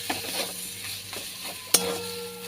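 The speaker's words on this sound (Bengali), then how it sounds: "এটাকে এবার নাড়িয়ে চাড়িয়ে মিলিয়ে নিতে হবে" Banana flower ghonto being stirred with ghee in a pan, soft scraping strokes over a gentle sizzle with one bright utensil clank near the end.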